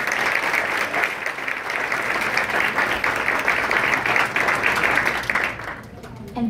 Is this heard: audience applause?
yes